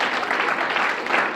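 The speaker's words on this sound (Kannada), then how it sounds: "ಜೋರಾಯಿನ ಚಪ್ಪಾಳೆ ಕೊಡ್ಲಿ" Steady, loud applause from an audience at a Yakshagana festival event in Dubai, a dense wash of clapping through the whole short stretch.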